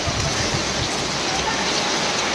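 Sudden heavy rain and wind during an outdoor jatra stage performance, a dense, steady roar of pouring rain with faint voices beneath.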